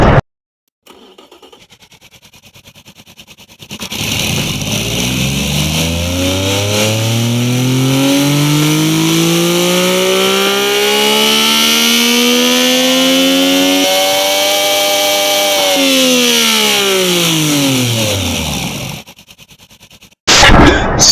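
A 1.0L 3-cylinder engine swapped into a minivan and fitted with two baffled mufflers and a two-way catalytic converter makes one long, loud, close rev. Its pitch climbs steadily and holds at the top, then falls away, heard alone without talk.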